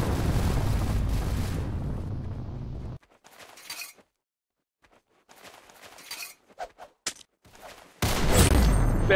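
Bursts of gunfire in the Roblox game Arsenal, loud dense volleys at the start and end with sparser sharp shots and clatter between, including a stretch of near silence.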